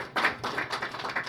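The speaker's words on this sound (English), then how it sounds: "I want y'all to give a round of applause real quick for" An audience applauds an artist at a live artist talk, a short burst of dense clapping that starts abruptly and holds steady at moderate loudness, without any voices over it.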